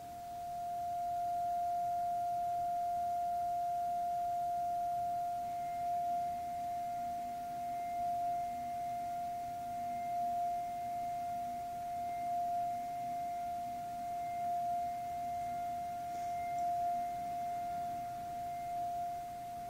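A steady sine-wave test tone plays through a Bugera V22 amp with the reverb turned to maximum. It holds a single pure, unbroken pitch for the whole stretch, faint and even, with slight pulsing swells in level.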